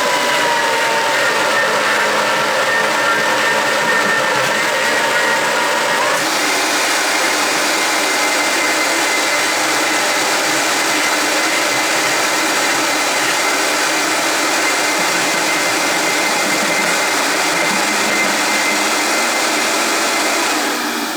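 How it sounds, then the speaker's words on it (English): A Vitamix blender churns mushroom stroganoff sauce in a loud, steady whir that runs without a break, its pitch shifting slightly about six seconds in. "This goes with your Vitamix, and it does the mixing down below."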